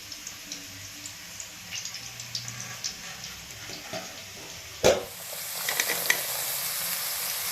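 Homemade fried rice with carrot, capsicum and peas sizzles in a pan while being stir-fried, with soft scraping strokes, a sharp metallic clatter midway, then louder, steadier frying.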